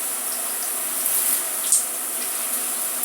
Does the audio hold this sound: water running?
yes